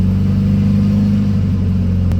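A VW Beetle engine idles with a steady, loud low rumble and faint tappety pulsing, the throttle opening briefly toward the end for a short rev.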